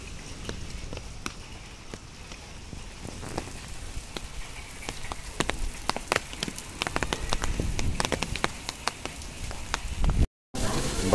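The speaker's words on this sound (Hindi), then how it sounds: "बरसात बहुत तेज हुई जिससे कि देखिए आप कितना पानी निकल रहा है छतों से" Heavy rain pours down on a school campsite, water streaming off the rooftops in a dense, steady patter with sharp drips and splashes throughout, briefly cutting out near the end.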